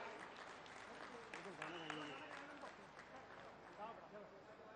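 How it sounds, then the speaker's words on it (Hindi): A crowd at an outdoor public event with a state chief minister applauds in a steady, faint wash of clapping, with a voice speaking over the top. "जोरदार तालियां बजाएं, बहनें बजाएं,"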